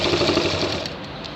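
A sewing machine stitching a shirt runs close by as a fast, continuous mechanical whirr, easing off slightly near the end, with no voices.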